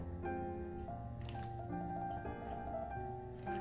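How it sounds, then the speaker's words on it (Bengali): Diced bottle gourd pieces drop into a pot of boiling masoor dal with soft wet squishes and bubbling, heard under steady background music. "এখানে আমি একটা বড় সাইজের আধখানা লাউ দিয়ে দিলাম"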